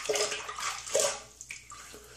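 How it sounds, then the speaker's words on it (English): Water splashing from a filled sink as a man wets his face before a straight razor shave, a few close sloshing bursts and drips followed by quieter trickles, with no speech. "Get my face wet."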